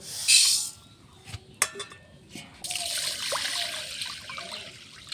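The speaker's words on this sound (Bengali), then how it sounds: "মুসুরির ডালটা আমি এখন ধুয়ে নেব" Red lentils being washed in a bowl of water: an opening splash and a few clinks and knocks, then a steady swishing trickle of water until the end.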